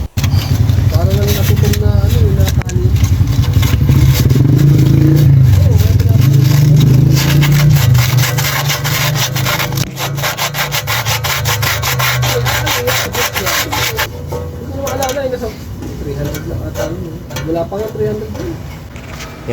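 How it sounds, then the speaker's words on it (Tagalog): Steady, harsh abrasive grinding against the metal end of a Mitsubishi Mirage exhaust pipe continues for a long stretch, loud and close, with a voice talking over it. "At lilihaan po natin yung huso ng tambucho para makinis pag kinabit yung bago."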